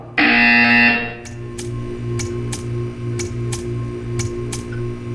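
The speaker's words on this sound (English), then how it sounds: "You will hear a buzzer." A loud, harsh buzzer blares for about a second in Portal 2, then gives way to quieter, evenly spaced ticking over a low hum.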